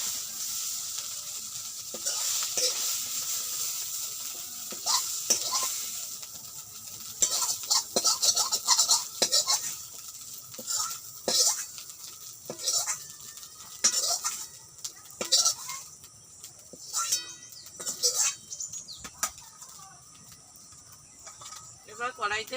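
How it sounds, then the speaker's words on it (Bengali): Fried chhana (paneer) pieces lifted from a hot wok, with scattered metallic scrapes and clinks of a utensil against the pan over a faint background sizzle, irregular and close. "ছানাটা আমার ভাজা হয়ে গেছে, আমি এবার ছানাটাকে তুলে নিচ্ছি।"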